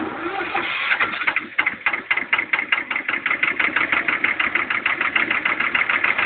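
A boat's outboard motor catches after a brief crank, then settles into a steady, rapid chugging idle, loud and close.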